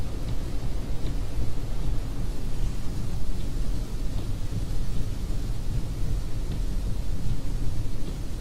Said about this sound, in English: the rain is definitely coming down harder over here.